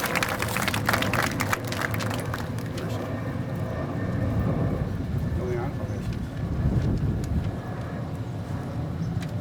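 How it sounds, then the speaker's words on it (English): A school audience at the Valley Road School 2024 ceremony claps in a dense, steady wash of applause that holds for several seconds, with voices mixed in. "How about one more round of applause for possible future leaders of America?"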